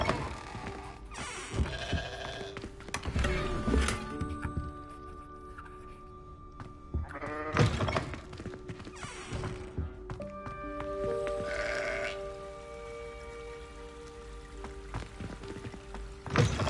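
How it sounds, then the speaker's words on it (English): Sheep bleating inside a school in the Hogwarts Legacy video game, a few moderate calls set against game ambience with rain-like patter and pouring sounds, plus brief game voices. "What are you doing with a sheep? You can't bring a sheep into school."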